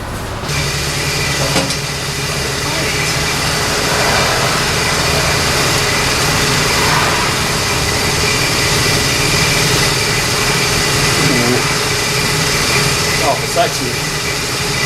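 A 1965 Buick Skylark GS 455 big block idles through a chambered exhaust with a steady, deep, rumbling burble that continues unbroken throughout, loud and close.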